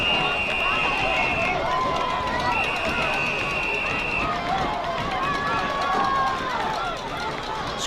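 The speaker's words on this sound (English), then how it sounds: "Crowd really getting loud on the Miramar side." A crowd at an 11U youth football championship game between Miramar and Boynton Beach roars loudly and steadily, a dense wall of cheering and shouting with no pauses.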